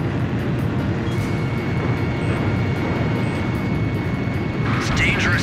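Fighter jets roaring in the Ace Combat 5: The Unsung War flight video game, a loud continuous engine drone with a faint whine, ending with brief electronic effects.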